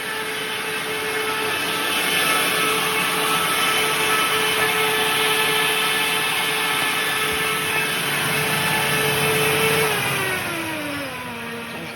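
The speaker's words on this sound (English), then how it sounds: "So this wire is running that motor in the background over there." Constant mechanical motor hum from a hybrid UAS test rig, running steadily in the background with a sustained whine that shifts downward in pitch near the end, with no speech.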